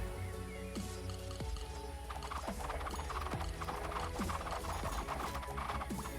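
Horse hooves clatter in a rapid, steady rhythm within the Circle Empires Rivals strategy game, mixed with game music and other battle effects at a constant moderate level.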